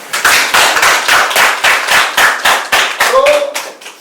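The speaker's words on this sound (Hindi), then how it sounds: "आपके लिए तालियां" Rhythmic clapping from a small group at a farming discussion session, a dozen or so sharp, evenly spaced claps in unison, close and loud, with a brief voice near the end.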